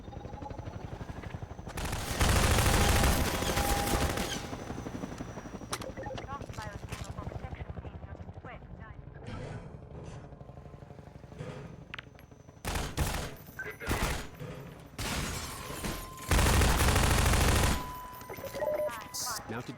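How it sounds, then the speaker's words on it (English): Half-Life 2 combat: a mounted gun fires heavy sustained bursts at an attack helicopter, with loud roaring volleys and whirring rotor noise between, the gunfire swelling in several long stretches. "The mounted guns were added here to help train the player on the gun's effectiveness against the attack helicopter"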